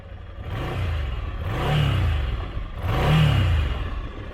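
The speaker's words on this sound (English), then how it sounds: "let's give it a couple revs." A 2019 Ducati Scrambler Icon motorcycle engine on its stock exhaust revs up twice, each rev swelling to a throaty roar before dropping back to idle, close and loud with no talking.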